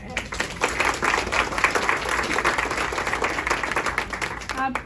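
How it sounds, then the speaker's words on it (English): Audience giving a round of applause, a dense steady clapping throughout, fairly loud and near, with a voice briefly heard near the end. "I just think we all need to give her a round of applause for that."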